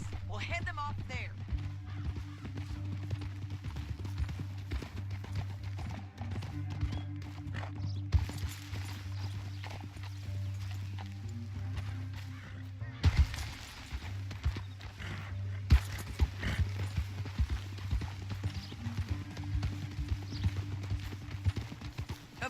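Horse hooves clip-clop steadily in Red Dead Redemption 2 as riders travel through a canyon, a continuous rhythmic drum under a music score and game effects, fairly faint, with characters talking over it.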